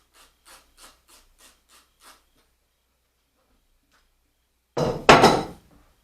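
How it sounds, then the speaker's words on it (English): Wrenching loose the steering stem nut on a motocross bike: a run of about seven short, evenly spaced metallic ratchet clicks, then a pause and a louder burst of scraping and clanking close by, with no talk. "we'll go ahead and remove our steering stem nut"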